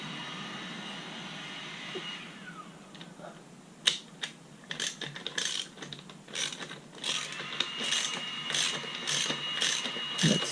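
Nuts being tightened on a Ducati Hypermotard 821 radiator guard with a hand ratchet: a run of quick, close clicking bursts that builds through the middle and continues steadily, with no talk.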